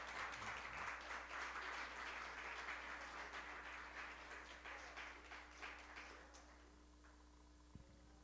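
A church congregation applauds, the clapping fairly distant and faint, holding steady for several seconds before thinning out and fading.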